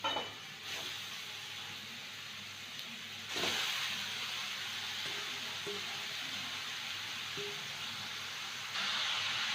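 Grated beetroot hitting garlic in hot oil gives a steady loud sizzle and hiss, with a fresh surge of frying noise partway through and no talking.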